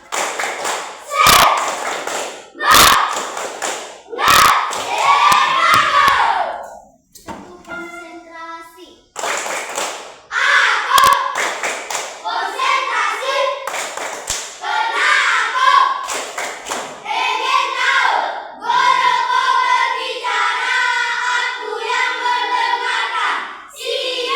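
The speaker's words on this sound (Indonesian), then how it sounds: "Tepuk semangat." Sharp group claps in a rhythmic pattern ring out during a religious class gathering in Merauke, followed by a mix of chanting voices and further scattered claps, loud and close.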